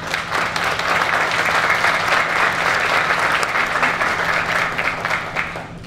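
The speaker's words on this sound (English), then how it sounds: "Please give a round of applause to State Senator Pavel Payano." An outdoor audience at a ribbon cutting for a loft building claps for State Senator Pavel Payano, dense, sustained applause from many hands, fairly loud and steady before tapering slightly at the end, with a low hum beneath.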